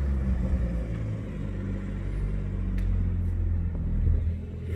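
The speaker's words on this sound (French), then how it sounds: "Et voilà, la petite Cayman, elle arrive, Laurent Schmitt." A Porsche Cayman GTS rolls in with a steady low engine rumble, its note building gently and holding fairly close and loud for a few seconds, with no one talking over it.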